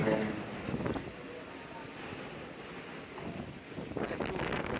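Storm wind and rain at a river launch ghat with two launches moored, a rough broadband wind rush buffeting the microphone, swelling near the start and end, with someone talking over it.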